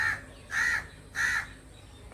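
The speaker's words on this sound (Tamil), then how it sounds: "இந்த காக்கா இங்கெல்லாம் இப்போ கூட கத்துது" Crows cawing outdoors near a small guava tree, three loud harsh calls spaced about half a second apart, fairly close, with no voices over them.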